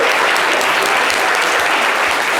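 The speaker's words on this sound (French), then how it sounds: "On peut l'applaudir très très fort." Dense, steady applause from a studio audience at a live French-language radio show, loud and continuous throughout with no breaks.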